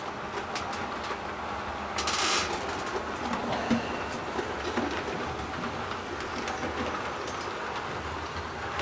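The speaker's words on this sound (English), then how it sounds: "it's still basic baseboards, but we've got locomotives running." Model railway locomotives run on basic baseboards, giving a continuous close whirring, rattling hum with faint clicks of wheels over rail joints and one brief brighter burst, no talking.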